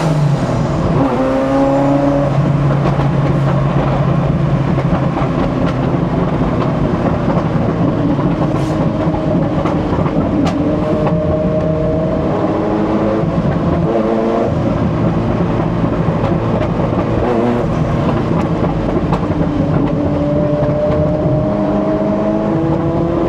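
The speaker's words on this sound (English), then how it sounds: "On board of the F40 and followed by your Bugatti." On board a Ferrari F40 supercar at an owners' event, the engine drones and rises through several pitch sweeps as it accelerates and shifts, loud and close, with another car following behind.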